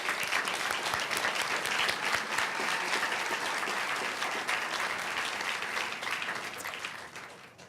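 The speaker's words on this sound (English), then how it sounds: "Let's give him another round of applause." Sustained applause from an audience at a school board meeting, honoring a guest teacher; dense steady clapping runs for several seconds with no talk, then tapers off near the end.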